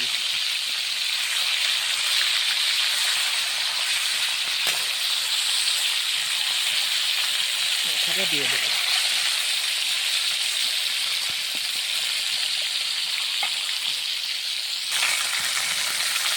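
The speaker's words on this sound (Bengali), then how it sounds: "মাছ আমার সুন্দর করে ভাজা হয়ে গেছে" Fish fries in hot oil with a continuous close hiss and sizzle throughout, briefly under a few spoken words.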